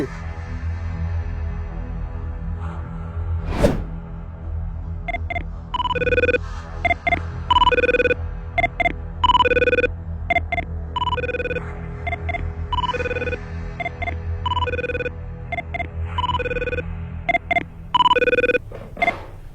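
A telephone ringing in repeated electronic bursts with short pauses between, loud and close, after a single sharp click near the start.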